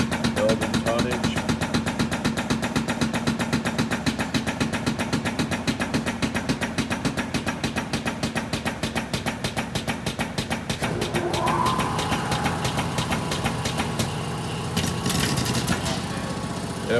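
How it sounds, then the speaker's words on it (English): The air-over-hydraulic pump on a 200-ton Accudyne hydraulic press works to build tonnage. It makes a loud, rapid, continuous pulsing throb that holds steady for the whole stretch and shifts slightly in tone near the end. "you hear the hydraulic, our air over hydraulic pump right there, taking over"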